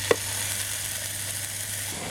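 Garlic sizzling as it is stir-fried in a pan for a beef and cauliflower stir fry: a steady, hissing crackle after a brief clink at the start, with no talking.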